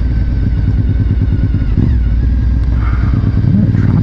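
A motorcycle rides along a road, its engine a loud, steady drone with slight rises in revs throughout, close and constant.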